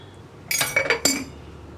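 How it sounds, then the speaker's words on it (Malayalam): A metal spoon clinks against the pot a few times in quick succession while stirring a potato milk curry after salt is added, with a short, close tapping and scraping and a quiet background. "ഉപ്പ് ചേർത്തിട്ട് ഒന്നുകൂടി മിക്സ് ചെയ്തിട്ടുണ്ട്."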